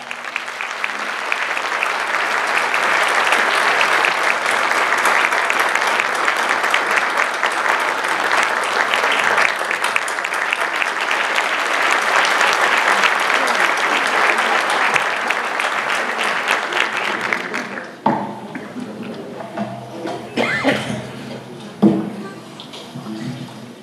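A concert audience at a centenary music society event in Giresun breaks into sustained, loud applause lasting about eighteen seconds, then stops abruptly, leaving scattered claps, rustling and a few brief sounds.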